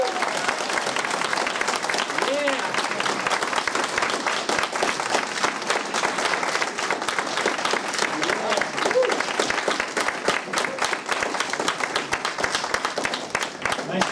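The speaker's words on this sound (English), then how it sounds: "Let's hear a big round of applause for Grandmaster Jim Brassard." A crowd claps densely and steadily for a martial arts grandmaster at an in-home kempo and kung-fu training session, the applause holding at full strength throughout, with a few faint voices mixed in beneath it.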